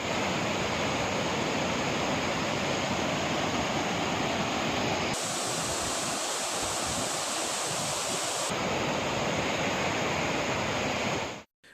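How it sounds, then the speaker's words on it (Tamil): A waterfall at Beeman Falls in the Javvadhu hills roars with heavy flowing water, a dense steady rush that shifts in tone midway before cutting off at the end. "இதேபோல் ஜவ்வாதுமலை பகுதியில் பீமன் அருவியில் தண்ணீர் ஆர்ப்பரித்து கொட்டுகிறது."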